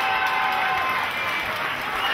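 Crowd at a UK fight event cheering and applauding at the end of a round, a dense steady roar of voices and clapping that holds at the same level for the whole stretch.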